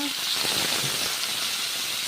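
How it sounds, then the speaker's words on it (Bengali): Potatoes fry in oil in a wok, producing a dense, even hiss of sizzling close by that holds steady for the whole short stretch. "কড়াই বসে দিলাম এখন এই যে তেল ডাইলে দিলাম আলু বসাই দিলাম আমাদের ভাজার জন্য"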